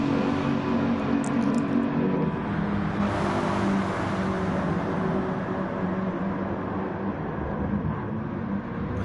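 A race car's engine in a PS4 racing game, a steady mid-level drone with a slight swell around the third second that then fades, with no speech.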